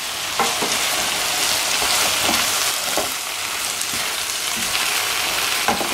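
Minced meat and vegetables, including courgettes, with harissa and soy sauce, fry in a pan with a bright, constant sizzle while being stirred, punctuated by light utensil taps against the pan.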